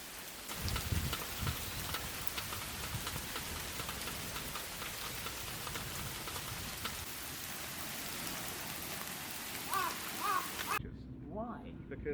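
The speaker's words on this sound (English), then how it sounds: "And then rainy season kicked in." Rainy-season rain pouring steadily, a dense hiss of drops on surfaces with patter throughout, cutting off near the end where a brief voice-like sound follows.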